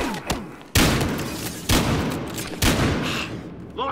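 Gunfire in the video game Battlefield Hardline: three heavy, booming shots, each with a long rumbling decay, preceded by a few lighter pops, loud and close.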